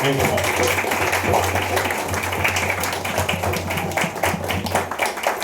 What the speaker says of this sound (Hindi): जोरदार ताली बजाएंगे उसके लिए।